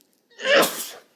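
A single sharp sneeze, close and loud, bursts out of near silence and fades within about half a second.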